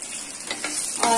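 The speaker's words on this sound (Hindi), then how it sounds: "और साथ ही दालचीनी डाल दिया और इनको हम हल्का सा भून लेंगे" Bay leaves and cinnamon sizzle gently in hot cooking oil in a pan, with a couple of soft stirring scrapes over the close, steady crackle.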